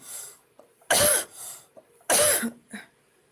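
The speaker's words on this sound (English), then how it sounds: "And I'm coughing a lot more." A person coughs twice, each cough a loud, harsh burst close to the microphone about a second apart, with small throat noises in the quiet gaps.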